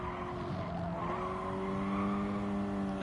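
Ford Focus race cars slide at the Brands Hatch GP circuit with sustained, wavering tire squeal over engine noise, a long continuous skid without a break.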